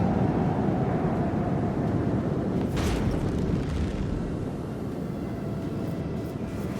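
Torpedoes strike a murder cruiser in the space battle of Rogue Trader, a heavy, sustained rumbling roar with a brief, sharper impact swell near the middle that slowly fades.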